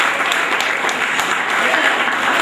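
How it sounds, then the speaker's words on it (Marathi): An audience at a first birthday celebration breaks into loud, sustained clapping, a dense wash of many hands throughout with some voices mixed in. "जरा जोरदार टाळ्या होऊ द्या"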